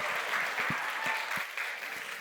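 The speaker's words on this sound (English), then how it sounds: "Can you guys please do a massive cheer and a round of applause for Alison Lester?" A children's audience at a festival author event gives a short burst of cheering and clapping, a bright wash of many small hands heard close up for about two seconds.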